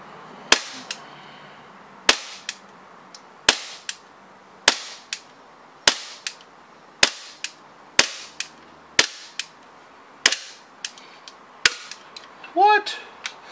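EMG Hudson green-gas airsoft pistol fired in slow, evenly spaced single shots, about a dozen sharp close cracks each with a short metallic tail, in a quiet room.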